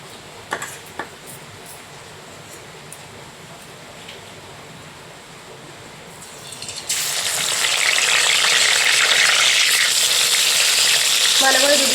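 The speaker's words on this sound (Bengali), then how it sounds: "তেলটা গরম হলে এক এক করে আমি মাছগুলোকে এবার ভেজে নেব।" Katla fish pieces dropped into hot mustard oil for a Bengali wedding-style doi katla burst into a loud, steady sizzle after several seconds of near-quiet kitchen background with a few faint clinks.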